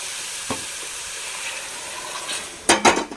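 Carrots and potatoes for a vegetable curry fry in a pan with a soft continuous hiss, then a couple of louder metal scrapes and clatters from stirring near the end.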